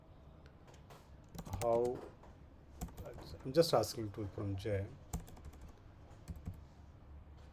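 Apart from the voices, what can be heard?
typing on computer keyboard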